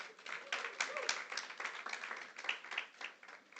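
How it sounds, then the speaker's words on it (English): A youth investment forum audience gives itself a round of applause: uneven, close clapping that swells and dips in bursts across the few seconds. "give yourselves a round of applause"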